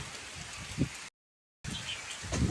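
Steady rain falls in hilly mountain country, a dense even hiss close by with no voices, broken by a short stretch of silence midway.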